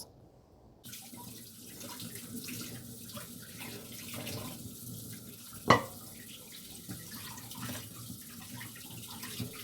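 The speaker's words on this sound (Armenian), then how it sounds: "Հիմա լավ լվանամ, հոսող ջրի տակ դնեմ եփվելու։" Beef rinsed under a running kitchen tap, a steady faint stream of water splashing in the sink, with one sharp knock halfway through.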